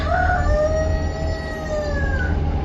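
Rooster crowing once on a small farm, a clear, fairly close call lasting about two seconds over low outdoor background rumble.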